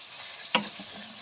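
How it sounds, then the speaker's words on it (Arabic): Chicken pieces searing in a hot pan, a steady close sizzle with one brief scrape as the meat is turned. "هنا احنا كده ادينا الفراخ بتاعتنا صدمة، نقلبها زي ما انت شايفة كده"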